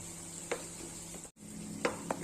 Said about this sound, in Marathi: तेल सुटेपर्यंत आपल्याला हे भाजून घ्यायचं आहे